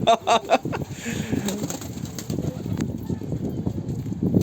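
A domestic pigeon coos in a village setting, a few soft low calls near the start followed by rustling, shuffling and wing movement close by.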